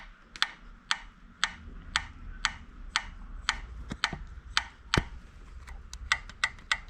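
Rapid, evenly spaced metallic ticking clatters from an Aprilia Tuareg 350 Rotax motorcycle engine, a loose rocker arm tapping steadily about twice a second with a low running hum beneath.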